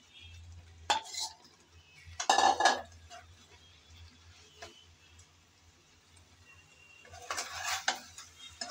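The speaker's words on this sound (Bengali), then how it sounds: "এখন দিয়ে দেব আলু আর ফুলকপি।" Potatoes and cauliflower tipped into a pan for a Bengali cauliflower curry, followed by clattering metal utensil stirring in bursts, with quiet pauses between.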